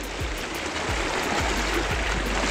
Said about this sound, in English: It's pretty shallow right here, but it's fast moving water.